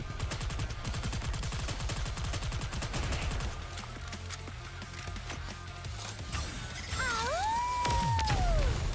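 Rapid gunfire from a railgun sniper rifle in the game Nikke Goddess of Victory, heard as a dense burst of sharp shots followed by quieter thuds and an electronic whine that sweeps up and down.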